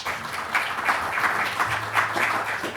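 A conference audience applauds after a talk on artificial intelligence and the labour market, a steady patter of many hands clapping at moderate distance for several seconds.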